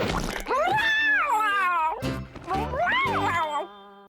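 A cartoon cat from Bob the Builder meows in two long, drawn-out, wavering cries, loud and close, with a short gap of soft clatter between them.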